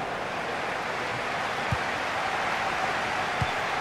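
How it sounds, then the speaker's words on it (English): A broad, steady roar of video game stadium crowd applause at Anfield during a Liverpool v Cambridge FIFA 18 match fills the whole stretch, dense and continuous, with a couple of faint low thumps underneath. "Anfield, please give a round of applause."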